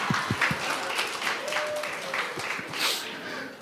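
Church congregation at a Sunday worship service breaking into applause, a dense, steady wash of clapping from many hands throughout, with faint voices mixed in.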